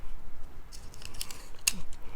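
Paper tape pulled and pressed down to fix a stamped red paper strip onto a handmade card, a few short crisp crackles and a sharp rip near the end, close and quiet.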